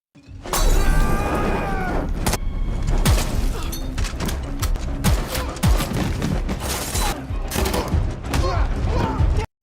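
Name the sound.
gunfire in a film scene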